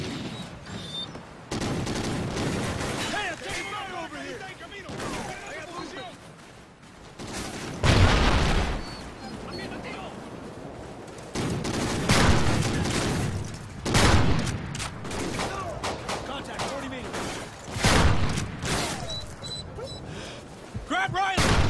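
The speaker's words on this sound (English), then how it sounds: "Hey, I'm taking fire!" Gunfire in a Call of Duty Ghosts veteran-difficulty mission rattles in repeated bursts and sharp heavy shots, loud and close, with game voices calling out between them.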